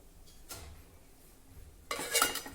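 Sprouted chickpeas going into a pressure cooker pot in a home kitchen, a quiet metallic clatter followed by a brief louder clink and scrape near the end.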